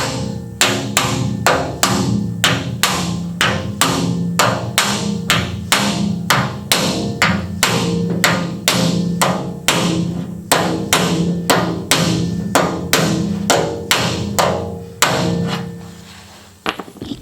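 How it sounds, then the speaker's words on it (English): Rapid, steady hammer taps ring against the sheet metal of a Chevrolet C10 truck, dozens of sharp metallic strikes in an even rhythm, close and loud, with no talk. "when I'm hitting it with the hammer"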